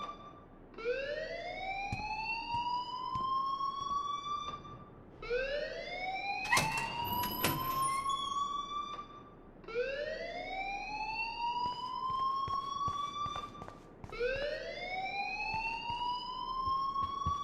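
A school alarm in the video game Life Is Strange wails in repeated rising sweeps, four long whooping cycles separated by brief gaps, with a sharp clattering burst cutting in partway through.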